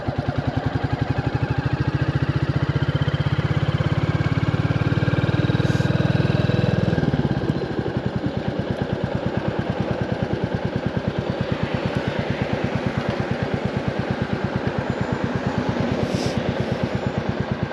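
A Royal Enfield 350 Classic engine rumbles loudly up close while riding, a heavy low drone for the first seven seconds before easing into a steadier, lighter thump with wind noise and faint high squeaks.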